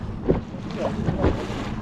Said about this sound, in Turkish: Rüzgar çok, dalga çok.